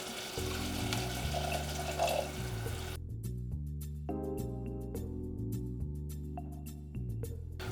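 Beef brisket cooking liquid hits a hot roux for gravy with a loud, hissing sizzle for about three seconds, then background music carries on alone.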